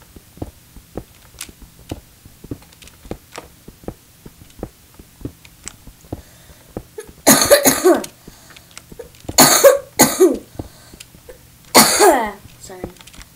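Several harsh coughs burst out in quick clusters after a stretch of faint ticking and tapping, loud and close.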